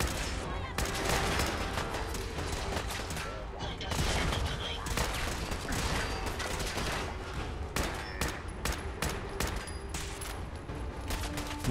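Rapid gunfire in a Fallout 4 battle against Rust Devils, with dense bursts of automatic shots and scattered single cracks, loud and continuous, with a voice talking faintly underneath.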